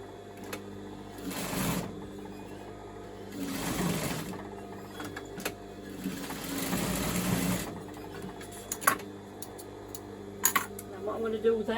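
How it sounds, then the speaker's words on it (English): A sewing machine stitches fabric into a band for a handmade gift, running in several steady bursts of a few seconds each with pauses between, close and fairly loud, with some light handling noise in the gaps. "I'm going to stitch and make it a band."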